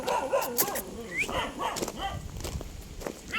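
Several dogs bark in short bursts at a moderate distance on a mountain, mixed with outdoor background noise and some human voices.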